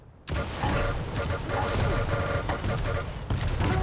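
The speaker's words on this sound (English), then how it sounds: "iiinnnzzz using the stair to evade all the rockets Mind Vortex is releasing" Dense rapid weapon fire and blasts from a Warsow duel, rocket launcher shots and explosions packed together with barely a gap, loud and continuous, with a voice talking over the action.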